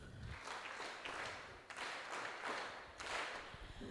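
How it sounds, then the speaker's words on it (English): An audience at a constitutional values event applauds the acting High Court judge, a full round of steady clapping from many hands that rises and falls in surges, fairly distant and quiet. "A round of applause, please."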